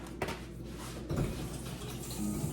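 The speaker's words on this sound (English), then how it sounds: "start rinsing out that pot before" A cooking pot is rinsed under a running kitchen tap, giving a steady, soft rush of water with slight splashing shifts, quiet and close with no talking.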